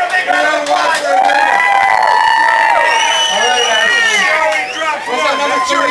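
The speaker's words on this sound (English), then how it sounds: "Let's give her a big round of applause." A crowd at a St. Patrick's Day Miss Potato Pants contest claps, cheers and whoops loudly and continuously, with an announcer's voice and other voices talking over the noise throughout.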